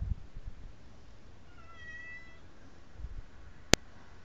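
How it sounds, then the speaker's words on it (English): A house cat shut outside a room door, eager to get in, gives one faint, drawn-out meow partway through, followed by a single sharp click near the end against a quiet indoor background. "right now my cat is scratching the door"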